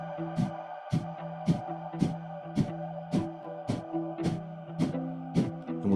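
Breath of fire: strong, forceful exhales pushed out through the nose, about a dozen short bursts at a brisk, even pace. They sit over a steady tonal background hum.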